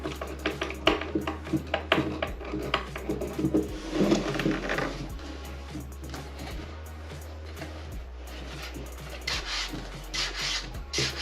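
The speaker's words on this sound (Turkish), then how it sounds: "Son olarak da vidalarımızı sıkıyoruz." Screws are tightened on a wooden toy rocking cradle: close rasping and rubbing twists come in irregular bursts over a low, steady hum, with occasional small knocks.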